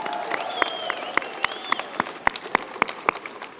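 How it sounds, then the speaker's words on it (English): Banquet audience applauding new captains at an evening awards dinner, scattered hand claps popping sharply over a steady room murmur, moderately close and building into a brief round of applause. "how about a round of applause for the new captains?"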